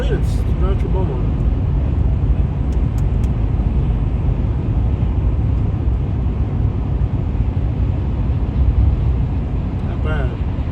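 A car cruising along the highway toward Beaumont, Texas, its steady road roar and tire rumble holding a constant level throughout, with faint voices from inside the cabin.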